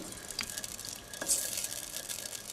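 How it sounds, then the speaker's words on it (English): Red curry paste stirred in a hot pan, a steady close sizzle of frying with soft scraping stir sounds throughout, no voices. "Just give that a nice stir."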